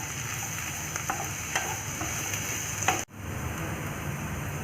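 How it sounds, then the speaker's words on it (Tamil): Onion, capsicum and tomato sautéing lightly in a pan, a steady low sizzle with occasional stirring scrapes and taps, close by, ending with a sharp knock and a brief dip before the frying continues. "இது வந்து லைட்டாக வதக்கிக்கோங்க."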